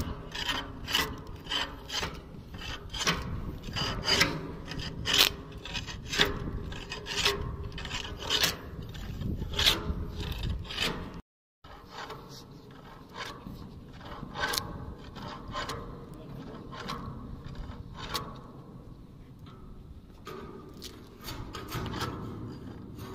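A long-handled scraper strips hatch sealing tape from a ship's hatch cover, giving a continuous rough rasping and scraping with repeated strokes, fairly close and steady, with a brief gap midway.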